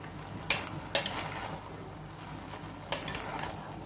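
A spoon scrapes and clinks in a cooking pot while sprouted green peas are stirred, three sharp metallic knocks spaced apart over a soft background hiss, close but fairly quiet.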